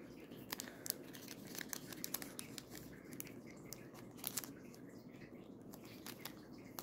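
A Pokémon card blister pack is torn open, giving faint crinkling plastic and scattered sharp ripping snaps close up in a quiet room.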